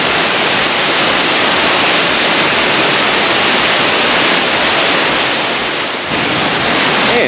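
A big waterfall roars as a dense, continuous broadband rush, loud and steady for several seconds, heard from a vantage point on a cliffside path, with no talking.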